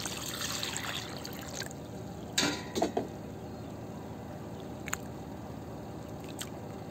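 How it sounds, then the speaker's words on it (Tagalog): Cut potatoes are washed and soaked in water, with a faint steady trickle joined by a few brief splashy squishes and sloshes near the middle, close and quiet. "Hugasan at ibabad natin ito sa tubig ng 10 to 15 minutes para maalis yung starch"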